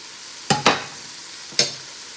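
Carrots hit a hot pan and sizzle: three quick, sharp bursts of frying hiss and clatter, close and distinct, with quiet gaps between them.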